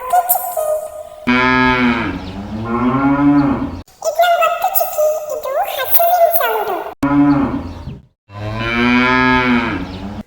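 Several long, loud cow moos, each a drawn-out harmonic call, come one after another with short gaps between them and no talking.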